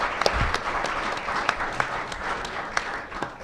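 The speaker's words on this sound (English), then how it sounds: "let's give all of them a round of applause" An audience at a community event applauds, a moderate crowd's clapping with a few sharper individual claps standing out, steady and fairly close for the whole stretch.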